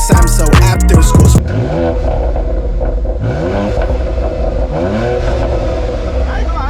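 A BMW X3M or M340i engine revs up hard with a deep burbling exhaust, loud and close, its tone rising and falling in several pulls over a continuous rumble. Music plays loudly at the start.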